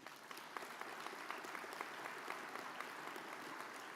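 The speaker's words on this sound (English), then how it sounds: "you give them a round of applause" An audience at a business meeting gives a team a round of applause, a steady, dense patter of many hands clapping, fairly faint and even from start to finish.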